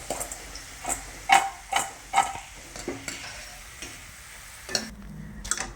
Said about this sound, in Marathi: हे पण छान तळून झालेले, कलर पण छान आलेला आहे।